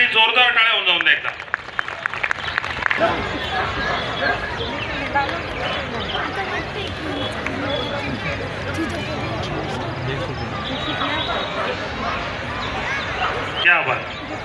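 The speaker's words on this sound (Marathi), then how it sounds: "मॅक्स साठी जोरदार टाळ्या होऊन जाऊन द्या एकदा." An audience applauds for Max, a Maharashtra Police dog squad dog, after a drill performance, with steady clapping filling the scene while someone talks over it on a loudspeaker.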